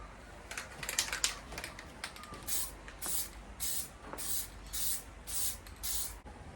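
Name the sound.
spraying clear coat onto a car wing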